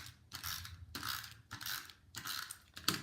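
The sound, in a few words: embossing machine cranking cardstock through an embossing folder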